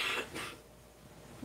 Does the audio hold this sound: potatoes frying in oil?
no